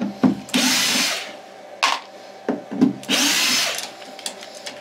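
A CNC machine cutting a mylar frame whines loudly in long bursts with short gaps between passes, harsh and close, with no talking.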